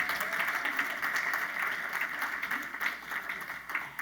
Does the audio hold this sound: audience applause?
yes